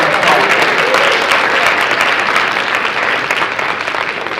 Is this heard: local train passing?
no